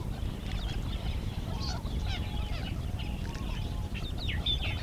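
A flock of galahs calls near desert trees in Australia's Lake Eyre country, with repeated harsh screeching chirps scattered over several seconds above a constant low rumbling background.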